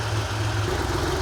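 A Porsche 911 3.2-litre engine idles steadily with a low, even rumble, close and fairly loud, briefly and without any voices.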